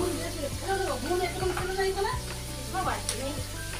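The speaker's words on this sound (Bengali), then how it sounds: "খাসির মাংস ফুটছে টকবক টকবক টকবক করে" Goat meat curry bubbling and sizzling steadily in a pot on the stove, a close, constant simmer with a voice talking over it.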